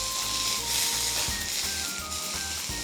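A beef steak sears in hot oil in an iron wok, giving a loud, steady sizzle with crackling spatters and a faint repeated scraping or knocking underneath.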